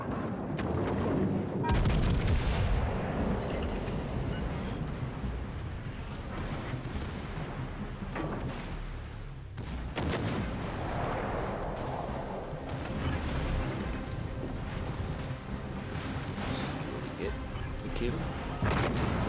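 HMS Vanguard's secondary guns firing in World of Warships: Legends, repeated booming blasts and rumbling impacts, a heavy volley near the start and another midway, with a voice talking over the battle.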